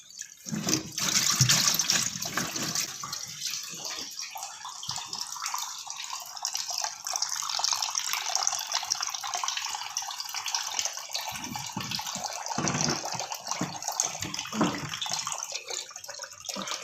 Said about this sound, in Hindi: इसे खोल के पानी निकल जाएगा।